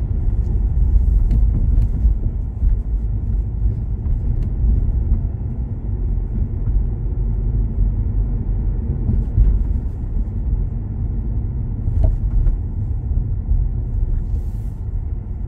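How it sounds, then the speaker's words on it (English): Steady low rumble of a car driving along Melbourne Road in the Village of Russell Gardens, Great Neck, NY, continuous road and engine noise throughout with no talking. "So I am gonna make a drive down Melbourne Road."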